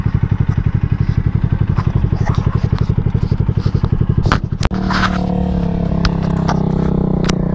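A Bajaj NS200 motorcycle circles in figure eights on an open plaza, its engine pulsing in rapid rhythmic beats, then shifting into a steadier, louder drone with a sharp knock midway.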